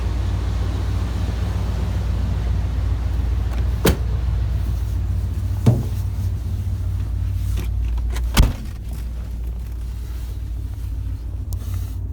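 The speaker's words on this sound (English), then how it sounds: "Plus I get to have fun in the plow truck." Plow truck engine idling from inside the cab, a steady low rumble with a few sharp clicks and clunks of controls, no talking.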